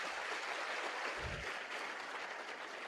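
Faint, steady clapping from a seminar audience, a soft wash of many hands continuing evenly throughout with no talk over it.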